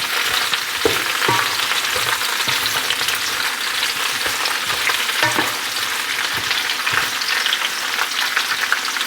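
Steak fries in lard in a skillet with a loud, dense crackling sizzle that holds steady throughout, dotted with occasional knocks and pops.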